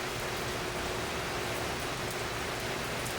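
Steady rain falls outdoors as a dense, even hiss of drops that continues without a break, with no talk or other sounds over it.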